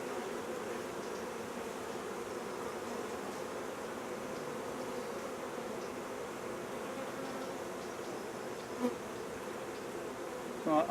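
Honey bees buzz steadily and closely throughout a queen-marking session at the hive, a dense continuous drone with a couple of brief knocks near the end.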